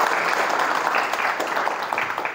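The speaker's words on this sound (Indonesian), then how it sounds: "Tepuk tangan berpelan-pelan." An audience at a motivational teachers' gathering at an Islamic boarding school in Sukabumi claps steadily, a dense run of hand claps filling the room at moderate loudness with no talk over it.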